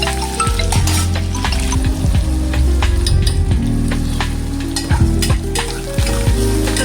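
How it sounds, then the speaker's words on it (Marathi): Onions sauté in a pan until golden brown for a sukka mutton masala. The sizzle is loud and close, and a spatula keeps scraping and clinking throughout without a pause. "कांदा आपल्याला घ्यायचा आहे, चांगलं परतवून घ्यायचं आपल्याला गोल्डन ब्राऊन होईपर्यंत."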